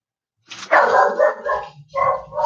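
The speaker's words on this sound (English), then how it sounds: "Sorry about Lucky barking in the background, but that's what he does." A dog barks close by, a few sharp loud barks in quick succession after a brief silence.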